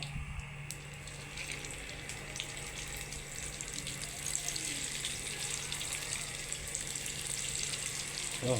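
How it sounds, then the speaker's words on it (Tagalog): Steady, continuous sizzling of food frying in a hot pan, a close crackling hiss that grows slightly louder toward the end. "Prito na natin. Prito."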